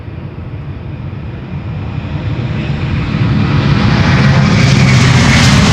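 A loud, steady roar of a Delta Airlines Airbus A330-300 airliner close by at Schiphol Airport, rumbling broadband noise building gradually in intensity over several seconds, with no voices.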